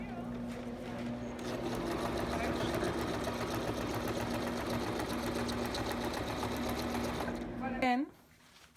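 A sewing machine runs steadily for nearly eight seconds stitching the seam and wire casing of a fabric face mask, a continuous close whir that stops abruptly near the end, with a voice talking over it.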